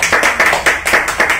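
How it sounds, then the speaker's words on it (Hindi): A small group claps loudly and briskly in a repair workshop, about seven crisp, evenly spaced claps in quick succession, close and with no talking. "एक ताली हो जाए जोर से"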